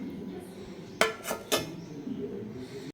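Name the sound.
lid being put on a pot of soaking flattened rice batter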